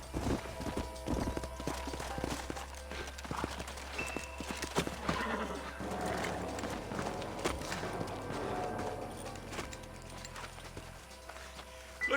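Horse hooves clip-clopping in Red Dead Redemption, a steady rhythmic trot with an occasional whinny over a low game ambience and background music, fairly continuous throughout.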